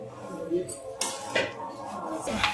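A metal spoon stirs boti fry in a pan, making scraping and clinking sounds at irregular moments over a quiet kitchen background, close and moderately loud.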